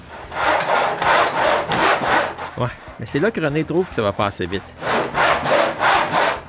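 Hand saw strokes rasp back and forth through wood in a steady rhythm during workshop construction, pausing while someone speaks, then resuming with several more quick strokes.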